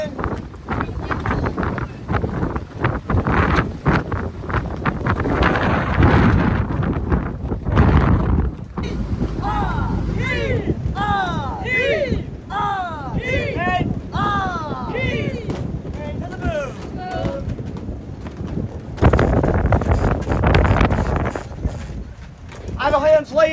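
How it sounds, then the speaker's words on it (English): Wind rushes steadily across the deck of the tall ship Lynx under way at sea, a loud broadband roar that swells and eases, with shouted crew voices over it. "Coming in a wind."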